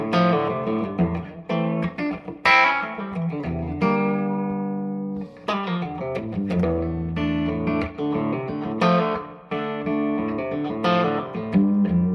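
Electric guitar played through a small Fender-style amp with only reverb on, sounding clean notes and chords in a loose, unhurried phrase, with ringing sustain and a touch of bite, alone and up close.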